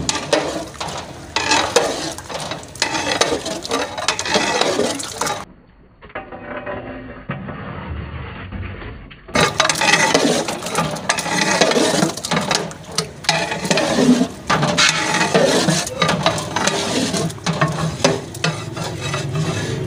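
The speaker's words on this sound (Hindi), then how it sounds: "बिल्कुल प्यार के साथ, हल्के हाथ के साथ केले मिक्स करेंगे क्योंकि बहुत नाजुक होते हैं केले।" Sliced bananas are folded gently into a large batch of cream cocktail dessert, making steady wet churning and scraping noises up close. A brief quieter gap breaks the sound before the mixing resumes.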